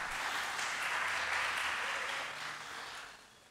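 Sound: audience applause

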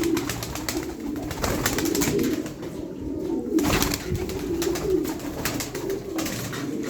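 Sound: domestic pigeons cooing

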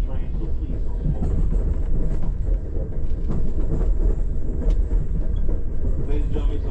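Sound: Amtrak passenger train moving

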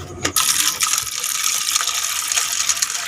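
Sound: water pouring

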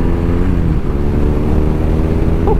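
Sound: motorcycle riding

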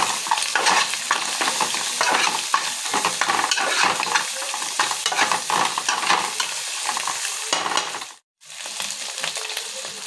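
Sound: stirring ginger paste into frying egg rice

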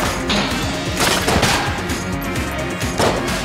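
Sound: ant gun shooting fire in video game Enter the Gungeon

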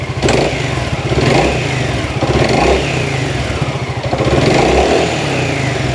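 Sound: Honda Forza 350 scooter engine revving

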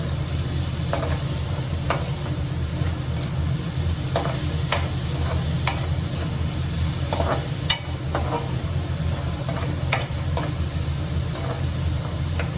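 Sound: stirring salt into frying onion curry

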